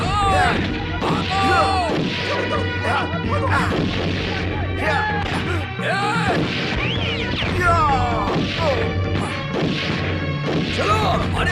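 Gunfire in a Bollywood action film scene, with repeated sharp cracks and crashing impacts throughout amid shouting voices and a music score, loud and busy.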